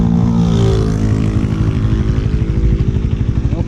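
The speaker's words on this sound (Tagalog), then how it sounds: "Okay, sound check sa motor." A Rusi Flash 150X motorcycle engine runs at highway speed, close to the microphone. It gives a loud, steady, buzzing drone with no voices.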